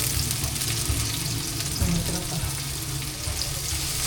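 Ginger, garlic and onion sautéing in a hot pan, a dense continuous sizzle with a few soft stirring knocks, close and fairly loud, no speech.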